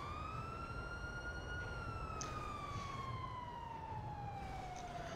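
In-game police siren from GTA V (LSPDFR), one long continuous wail that climbs briefly then slides gradually lower, heard up close and loud above a steady low background hum, with nobody speaking.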